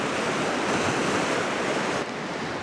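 A fast-flowing river in Montana rushes steadily, a dense, even roar of water that stays loud and close throughout, easing slightly near the end with no voices.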